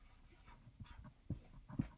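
Pen or marker writing out an addition problem by hand, producing faint scratchy strokes with a few short louder taps near the end, alone without talk.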